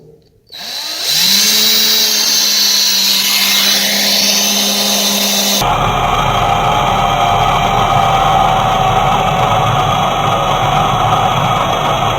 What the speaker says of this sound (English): Got my drill bit taped up to a 1/2 inch.